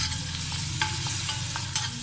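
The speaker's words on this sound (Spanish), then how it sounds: "Una vez derretida, voy a agregar la cucharada de harina" Flour cooks in melted margarine over medium-low heat, a soft continuous sizzle with light spoon taps and scrapes as it is stirred, close and fairly quiet.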